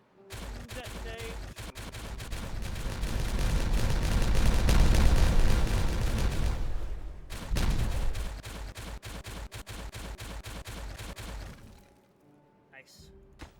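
TNT detonates in the video game Timberborn: a long, roaring, crackling blast rumbles for several seconds, then another burst follows before a sudden stop and a few faint clicks.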